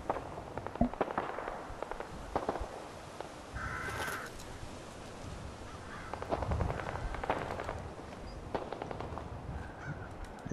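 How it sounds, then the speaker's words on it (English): Gunfire from a firefight in Fallout 4 VR, with scattered sharp shots and bursts over a constant noisy wash, moderately faint and sounding somewhat distant, and no voices. "You can hear the firefight kicking off."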